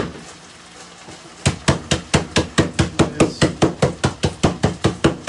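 Cashews being crushed for Thai chicken lettuce wraps: after a brief quiet moment, loud, close pounding strikes begin and repeat in a steady, rapid rhythm of about four blows per second.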